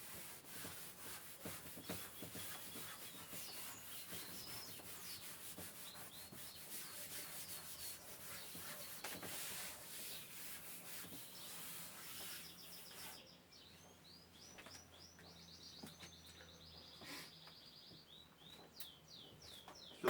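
Chalk is wiped off a chalkboard in soft, steady rubbing strokes, fairly quiet, with faint birds chirping in the background.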